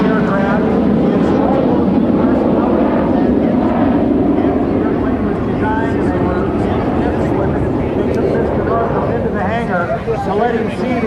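A B-2 Spirit flying-wing stealth bomber makes a flyby at the Wings Over Houston air show, its loud, steady jet roar lasting throughout under an announcer's continuous public-address commentary.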